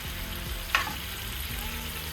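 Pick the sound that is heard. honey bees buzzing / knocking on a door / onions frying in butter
onions frying in butter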